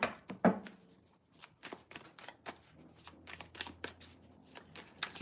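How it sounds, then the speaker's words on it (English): Tarot cards are shuffled in quick irregular riffles and taps, close and fairly quiet, with crisp flutters clustering near the start and lighter clicks continuing throughout. "Give these cards a really good shuffle."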